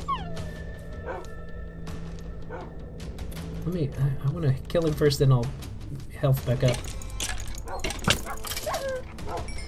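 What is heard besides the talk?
dog whimpering in a video game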